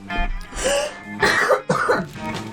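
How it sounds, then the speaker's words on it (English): A person coughs several times in quick, harsh bursts, loud and close, partly throat clearing, with no talk over it. "So I'm gonna cough, cough, cough, cough, cough."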